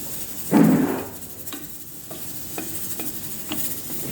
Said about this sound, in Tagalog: Hahaluin po natin siya.